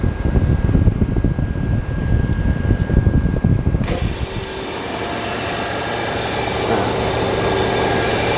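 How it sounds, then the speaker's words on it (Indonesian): A car engine cranks and starts with the ignition on and the AC blower running, then settles into a steady, loud idle with a constant fan hum. "Caranya kunci kontak di-on-kan, blower kita hidupkan, temperatur kita full, dan untuk mesin kita hidupkan."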